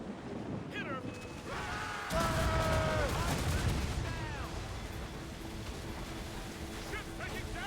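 Naval cannon fire and booming impacts from the sailing-ship combat of Assassin's Creed Rogue, several heavy shots over ocean wash with whistling tones, a louder volley midway, and no talk.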